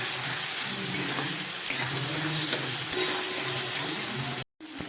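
Turmeric and ginger paste fry in a pan for a vegetarian curry, a steady close sizzle with occasional stirring scrapes, cut off by a brief silence just before the end.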